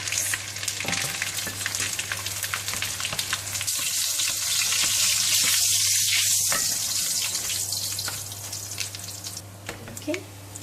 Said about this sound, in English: It will take around 1 or 2 minutes just to fry the anchovy or the ikan bilis.